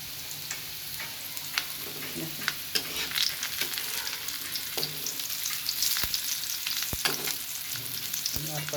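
Potato French fries sizzle loudly in hot oil while being stirred, with a steady bubbling hiss broken by sharp scraping clicks and knocks of the utensil, and no talk.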